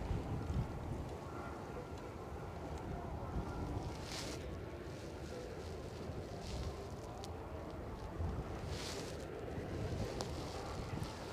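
Steady wind buffeting a handheld microphone outdoors at a plane-spotting spot in Edinburgh, Scotland, a continuous low rumble with occasional stronger gusts and no talk.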